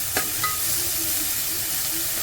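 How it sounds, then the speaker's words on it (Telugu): Coriander frying in a pan with onion and green chilli, a soft continuous sizzle with a couple of spoon taps and scrapes near the start, close and without talk. "కొత్తిమీర, ఫ్రై చేయాలి."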